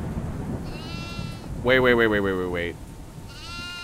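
Goat in the Devour horror game's farmhouse level lets out one loud, wavering bleat lasting about a second, set over a dark ambient bed, with a brief spoken word just before it.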